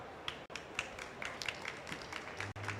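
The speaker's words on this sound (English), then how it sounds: "Round of applause from the audience, please." A small conference audience at a COP 30 pavilion event claps lightly, a thin, faint patter of scattered hand claps continuing steadily throughout.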